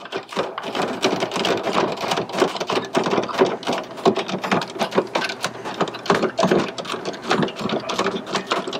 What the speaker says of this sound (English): We'll screw them in.